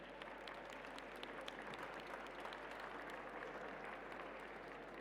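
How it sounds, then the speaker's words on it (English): Panel audience at a session on low-carbon, inclusive transport systems applauds the panelists, a faint, dense, continuous patter of many hands held at an even level throughout. "Please join me in giving them a round of applause."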